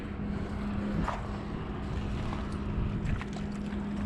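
A steady low machinery hum from a large processing plant drones in the background, faint and distant, with occasional soft clatters and outdoor noise over it.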